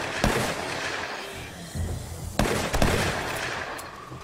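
Dragunov sniper rifle fired in the modded shooter 7 Days to Die (War3Zuk, Alpha 18): a few sharp, loud cracks spaced apart over a constant rumbling game ambience.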